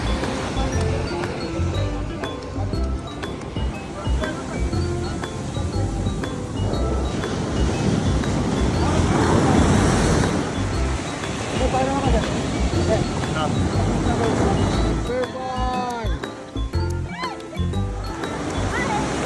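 Strong ocean waves crash and surge continuously at Baler beach, loud and close, with wind noise over the surf and voices talking intermittently.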